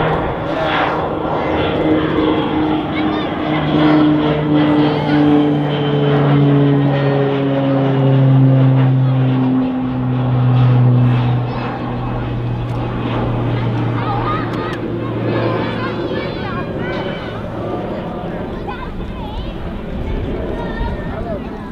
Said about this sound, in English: That was an early rotation, as expected from the twin prop aircraft.